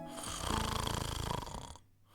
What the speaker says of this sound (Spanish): los ojos del gigante se cierran y pronto empieza a roncar muy fuerte